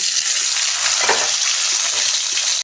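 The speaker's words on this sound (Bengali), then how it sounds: "আমি পেঁয়াজগুলো দিয়ে ভালো করে ভেজে নেব।" Onions frying in mustard oil with whole cumin, bay leaf and dried red chillies: a loud, steady, close sizzle that fills the pan throughout, with faint stirring scrapes underneath.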